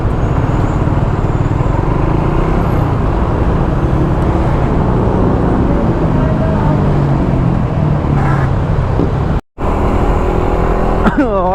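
Busy road traffic heard from a motorcycle during a test ride on a racing spark plug, a steady loud wash of engines and passing vehicles throughout, with a brief dropout near the end.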